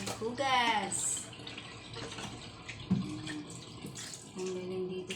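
Tap water running steadily during dish washing in a kitchen abroad, with splashes and clatter near the start and someone speaking Tagalog over the flow.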